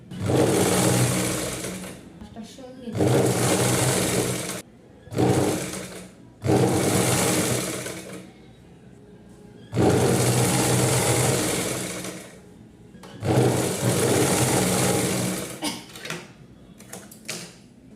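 Sewing machine stitching the leg section of a nine-yard nauvari saree, running in several loud bursts of steady whirring stitching separated by short pauses, close and alone with no talk.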